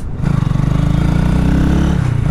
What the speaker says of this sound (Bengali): বাইকের সবচাইতে বেশি ভালো লাগতেছে আমার বাইকের সাউন্ডটা এক্সস্টের কারণে